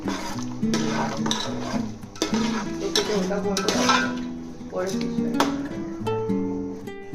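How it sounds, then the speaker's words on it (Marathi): Jaggery stirred into hot water in a pot on a gas flame, with a steady scraping and clinking of a spoon against the vessel while someone talks over it. "गरम पाणी आहे ते गरम करून ठेवलेलं आहे आता हे उकळवायचे गुळ विरगळवायचा"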